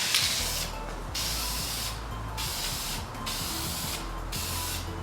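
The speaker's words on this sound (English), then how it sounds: "So about a foot away, a little spray like that." Aerosol tint spray hissing steadily from about a foot away as it mists smoke tint onto car tail lights, delivered in several long passes separated by brief pauses.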